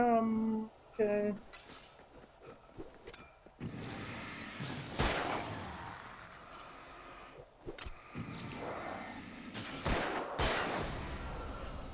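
Gunfire in Alan Wake bursts out as several sharp, loud shots at irregular intervals, separated by quieter game ambience and short stretches of music.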